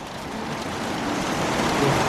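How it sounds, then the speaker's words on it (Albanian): Heavy hail pours down in quantity, with small stones rather than large ones. It makes a dense, continuous, loud patter that holds steady throughout, and no talking is heard. "Zuri një breshër i madh që t'ju them"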